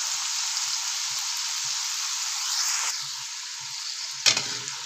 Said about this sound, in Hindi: इसलिए हम अरबी को सबसे पहले फ्राई करेंगे।